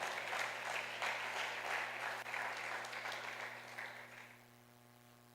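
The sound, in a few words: church congregation applauding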